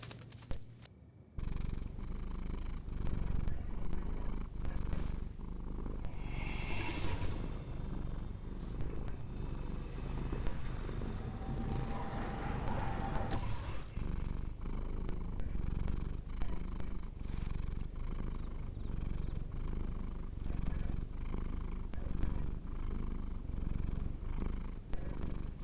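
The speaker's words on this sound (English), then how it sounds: "Everybody gets to see the cats." Cats in the video game Genshin Impact purr in a continuous, close, rumbling drone that runs steadily for over twenty seconds with no talking.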